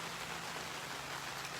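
Rain falls steadily in a garden, a soft, even hiss of drops with no talk.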